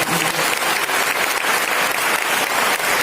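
An audience at a church event for young people applauds, a dense, loud burst of clapping from a crowd filling the whole moment.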